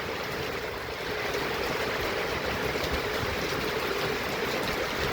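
Heavy rain pouring steadily outdoors, a loud unbroken broadband hiss and patter that stays constant with no pauses.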